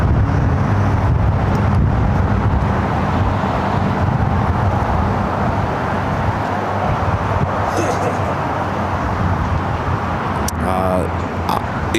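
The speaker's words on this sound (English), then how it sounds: "It's a little windy here today, and it's going to get even more windy throughout the course of the afternoon." Steady wind blowing outdoors at LAX airport in Los Angeles, a loud, continuous low rumble and buffeting against the microphone throughout, with a brief hiss of other noise near the end.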